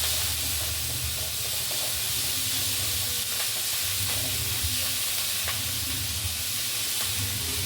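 Coriander leaves, tomato and other ingredients for kothu chapati sizzling and hissing in a pan, with a steady frying wash and occasional stirring clicks, close and even throughout, no speech.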